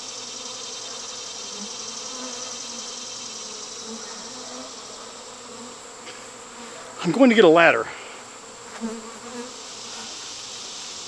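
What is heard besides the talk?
honeybee swarm buzzing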